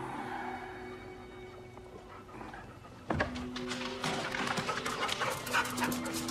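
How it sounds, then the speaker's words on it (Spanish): Dogs pant and whimper close by in a 1990 drama film, soft steady breathing at first, then louder rapid panting with high whines and small yips. "Como siempre, los perros me despertaron antes del amanecer."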